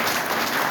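A big audience claps loudly and continuously at a business event, a dense wash of applause with no gaps across the short moment.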